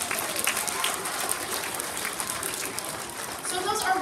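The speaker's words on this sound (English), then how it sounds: "So let's give them a round of applause." A classroom or school audience claps steadily for a few seconds, a dense patter of hands that swells again near the end, with a murmur of voices underneath.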